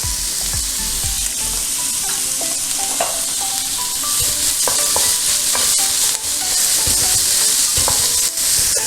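Sliced onions with curry leaves and salt frying in a pan for mutton roast are stirred continuously, bright close sizzling with repeated spoon scrapes and clinks throughout.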